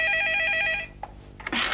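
A telephone rings with a steady electronic trill that stops partway, followed by faint rustling and handling noises.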